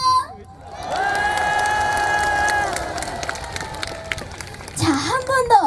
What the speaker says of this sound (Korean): 다같이 박수와 함성!